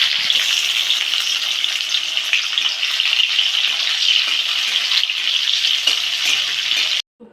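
Soaked cashews and raisins with cinnamon and cardamom crackle and sizzle steadily in hot oil in a pan, a dense close frying hiss running without pause before cutting off abruptly at the end.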